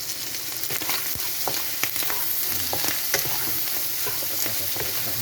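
Water snails fry in a pan with turmeric, salt and mixed spices, giving a steady close sizzle broken by frequent scraping and clinking stirs.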